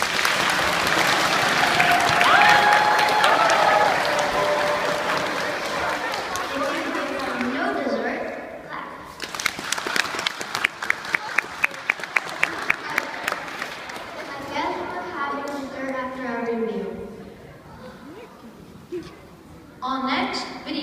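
A school assembly audience breaks into loud applause and cheering, with a burst of rhythmic clapping in the middle before it fades into crowd chatter and voices.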